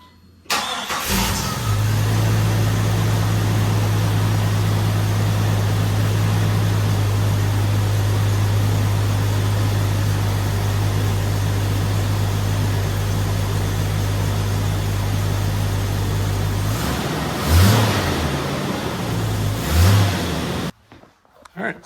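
A Jeep engine cranks and catches after a fan repair, then settles into a steady, loud idle for a long stretch before a couple of revs near the end, recorded close to the open engine bay.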